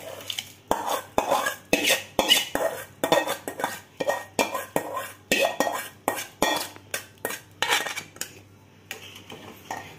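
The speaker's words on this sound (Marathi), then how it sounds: "याच्यामध्ये आपण हेच तांदूळ धुवून घेतलेले ते घालायचं" Washed rice tipped into gently boiling water in a pot and stirred for plain cooked rice, a close run of repeated spoon scrapes and clinks against the metal pot with wet sloshing, steady and unhurried with no talk.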